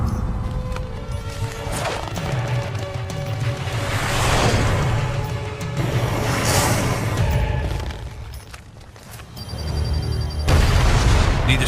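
Bombs detonating in the Marvel Ultimate Alliance 2 video game, producing deep booming blasts and crashing debris over a continuous dense rumble of game action, with swelling loud bursts near the middle and end.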